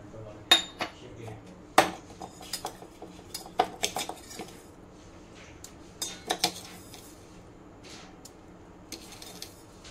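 A metal spoon clinks and taps sharply against a tea pot or cup while sugar goes in for tea, a series of close, irregular bright strikes with quieter gaps between them.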